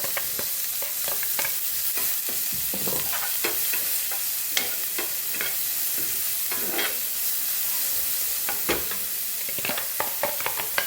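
Chopped onion and green chili stir-frying in a pan, a steady close sizzle broken by frequent scraping clicks of a spoon stirring, with no talking.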